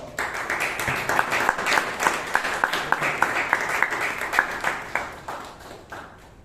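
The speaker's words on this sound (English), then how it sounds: "let us give a big round of applause for" A crowd at a Toastmasters meeting applauds steadily for several seconds, sharp claps piling up into a dense burst that gradually thins toward the end.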